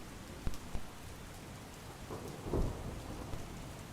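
Steady, dense heavy rain hisses throughout over Panchmahal farmland, with a few dull low thumps rising briefly above the downpour; no voices.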